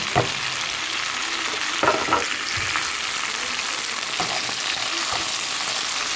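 Dry shrimp fry in a pan with a loud, constant sizzle, punctuated by scraping stirs at irregular intervals throughout, close up and without speech.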